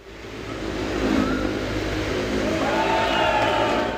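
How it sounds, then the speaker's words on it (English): A motorcycle engine roars continuously, building in revs and holding a loud, rough drone, close by. "Whether it's the roar of a 1926 Indian Scout or the quiet hum of a modern hybrid, Jagat's machines are here to do one thing,"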